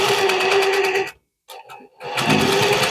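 A sewing machine fitted with a presser foot stitches over cord in a steady, close, buzzing whir with rapid needle pulses, stops briefly with a few soft clunks, then runs again.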